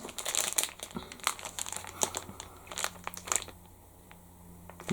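Plastic card sleeve packages for the Twisted Cryptids board game crinkle and crunch as they are handled, a run of close, irregular rustles and crackles with brief pauses and no talk.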